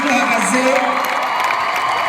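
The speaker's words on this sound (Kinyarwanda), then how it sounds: "nabongera amashyi menshi muhagaze" Loud crowd cheering and clapping from a standing audience at a concert with Rwandan artists, a constant roar of whoops and voices with applause mixed in.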